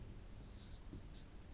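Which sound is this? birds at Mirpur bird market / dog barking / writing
writing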